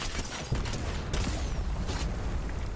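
Video-game gunfire from a Fortnite match strikes the player, heard as dense, continuous noisy shooting with a few sharper bursts spread across a loud, busy battle mix.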